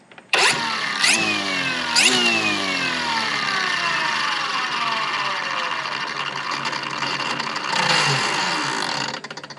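A DeWalt FlexVolt 15-inch cordless string trimmer's small motor whirs up sharply, then a high whine winds down slowly with falling pitch, brief rev near the end before it fades.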